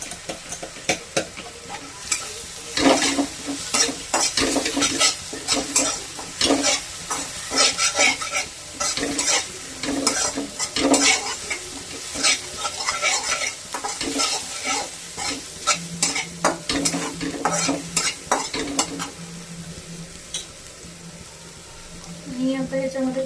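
Chillies frying in a pan at home, a dense crackling sizzle broken by busy scraping and stirring strokes, close and loud throughout, with a brief water-like splash and voices faintly mixed in.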